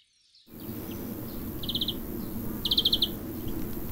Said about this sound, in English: There's just goldfinches all over the place.